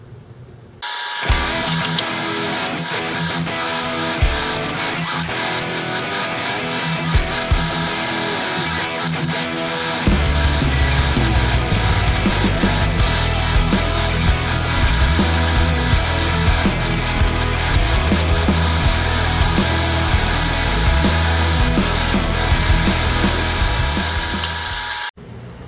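A grinder strips primer down to bare metal on a rusty car rocker panel during patch repair, giving a loud, steady abrasive whir that runs without a break and grows heavier and rougher partway through.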